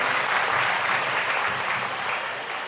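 An audience at a religious katha gathering claps to welcome its sponsors, a thick, continuous wash of applause that stays even and tapers slightly toward the end.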